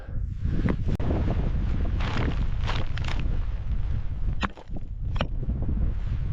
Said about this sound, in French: Le vent ici arracherait tout.